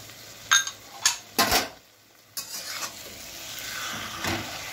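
Chickpeas and fried prawns are stirred into taro greens in a pan: a few sharp, close scraping strokes of a spoon against the pan, then a softer, steady sizzle with occasional stirs.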